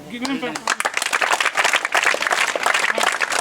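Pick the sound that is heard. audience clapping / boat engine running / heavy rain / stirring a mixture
audience clapping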